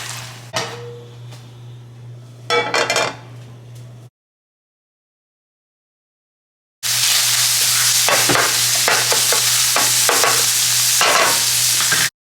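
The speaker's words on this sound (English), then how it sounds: "While the meat browns up" Ground meat browning in a pan for an easy weeknight dinner, with a spoon stirring and scraping through a steady loud sizzle that cuts off into silence and then returns, marked by clinks and scrapes.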